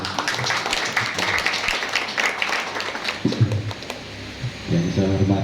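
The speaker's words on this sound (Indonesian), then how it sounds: "ya tepuk tangan ya." Hand clapping and applause fill a room at a school visit by a regional religious affairs official, dense and fairly close, with talk mixed in toward the end.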